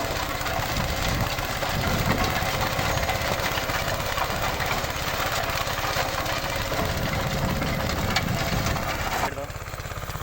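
A Massey Ferguson 5118 mini tractor engine runs in third gear with a steady, knocking mid-pitched chug and rattle. It stays loud and continuous, with a slight drop near the end, and a voice may be faintly present underneath.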